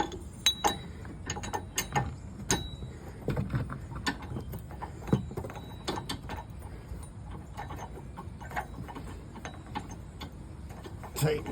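A bolt on the subframe of a 2008-2015 Nissan Rogue is turned by hand with a tool, giving a steady run of quiet metallic clicks and ratchety ticks, close up with faint background noise.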